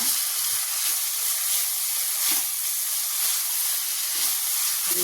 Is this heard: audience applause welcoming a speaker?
no